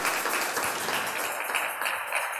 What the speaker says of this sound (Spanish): Dele ese aplauso al Rey de los cielos y bendígalo con todo su corazón